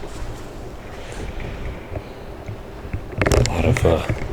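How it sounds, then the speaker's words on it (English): Low, steady wind rumble and rustle heard from inside an abandoned mall, with a burst of louder clattering movement near the end. "You can hear all the wind blowing outside"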